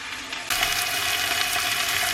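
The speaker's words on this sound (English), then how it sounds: "Just frying up a steak for lunch" A steak frying in a hot pan for lunch, bursting into loud, dense sizzling and sputtering that starts abruptly and stays steady and close, with no talking.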